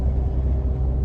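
Low, steady exhaust rumble from a Ford EcoBoost 2.7 with the resonator deleted, cruising at light throttle, a smooth, even drone with no revving.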